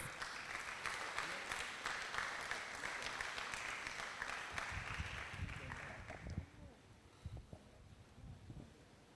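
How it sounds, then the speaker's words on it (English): Conference audience applauding, a dense burst of many hands clapping for about six seconds, then thinning out and fading into scattered claps and room noise. "give yourselves a round of applause"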